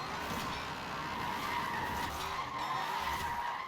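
A Mako Shark car slides and skids continuously in Forza Horizon 4, steady tire scrub and squeal over a droning engine, loud and unbroken with no talk.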